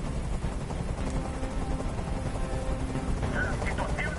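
A helicopter in the video game Detroit: Become Human keeps up a constant rotor drone and mechanical clatter under in-game noise, steady throughout with faint higher tones near the end.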